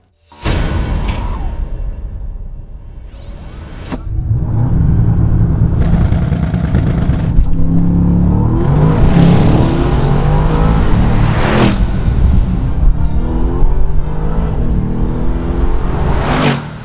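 A 2020 Bentley Continental GT First Edition roars loudly after a sharp start, its engine revving and surging with whooshing pass-by swells and shifting pitch for most of the stretch, no voices.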